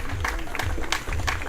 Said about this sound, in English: How about a round of applause for our ball kids?